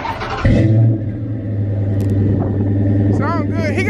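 A car with big exhaust tips revs hard with a deep rumbling exhaust note, then settles into a steady loud idle, close by while people talk over it.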